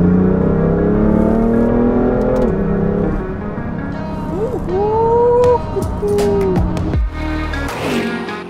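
A car engine revs hard through the gears, pitch climbing then dropping at each shift, loud and close with a whine over the engine note.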